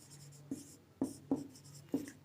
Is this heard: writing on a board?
yes